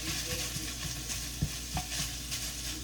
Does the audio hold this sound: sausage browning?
yes